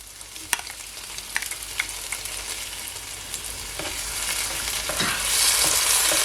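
Diced tomato drops into onions frying in a pan for Jamaican steamed cabbage, giving a steady close sizzle with a few sharp crackles and scraping clicks that swells louder toward the end; no voices.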